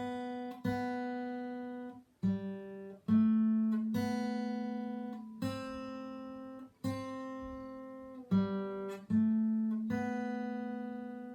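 A guitar plays the first four bars of a simple beginner piece as clear single plucked notes in a slow, steady rhythm, each ringing and decaying before the next, close and alone.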